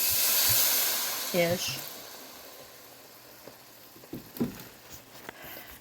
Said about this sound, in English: I'm going to put in the red wine, about a half a cup-ish.